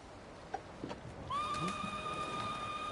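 A horse from Ghost of Tsushima gives a loud, sustained whinny, with a few faint hoof knocks before it.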